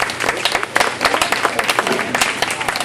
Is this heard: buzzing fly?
no